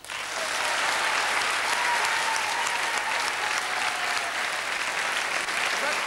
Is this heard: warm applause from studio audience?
yes